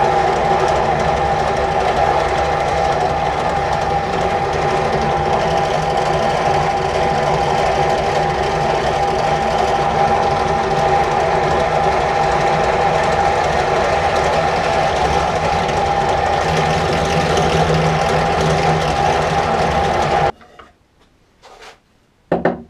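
A Lidl Parkside PTBM 500 bench drill press runs steadily with a loud motor whine and grinding as a milling bit cuts an angle into wood, then cuts out near the end.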